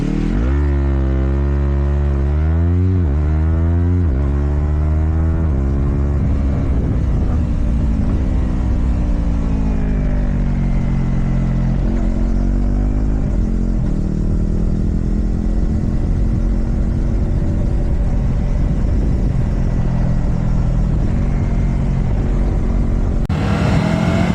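A Yamaha YZF-R3 motorcycle engine with a road-legal aftermarket exhaust, loud and close, revving up and down through several rising and falling sweeps before holding a throaty steady drone.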